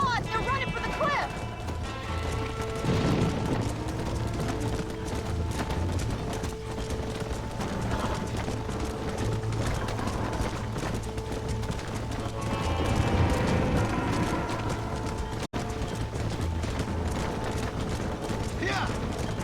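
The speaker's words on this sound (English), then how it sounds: "We have to stop the stampede!" Cattle stampede in the Red Dead Redemption video game: a dense, continuous rumble of galloping hooves, with voices shouting over it and a few animal cries.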